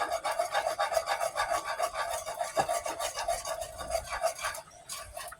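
Sauce mixture for a budget pantry meal being stirred and whisked in a bowl, a steady scraping, rasping rhythm close up that runs continuously with no talking.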